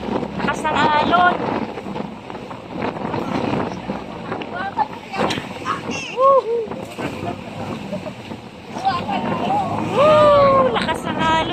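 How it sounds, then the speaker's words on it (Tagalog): Strong sea waves pound a small boat in choppy water, with wind buffeting the microphone and splashes rising and falling throughout while people talk and exclaim over the noise. "Lakas ng alon, no?"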